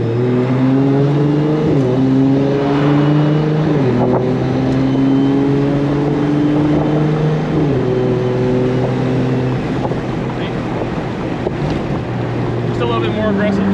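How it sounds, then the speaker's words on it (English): A 2JZ-swapped BMW E30 with an 8HP70 automatic accelerating in sport mode, its loud engine tone climbing steadily and dropping sharply at several quick gear shifts, heard from the cabin with strong wind noise and no talking. "It's just gonna be a little bit more aggressive when it shifts."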